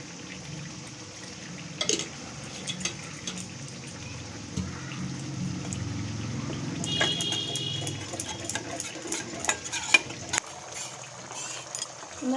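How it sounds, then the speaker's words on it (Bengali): Ground pepper and chilli powder being mixed with water for a village-style Bengali mutton curry, a soft steady sloshing and stirring, close and low, with faint clicks and a low hum behind. "এটা জল দিয়ে ভালো করে গুলে নেবো।"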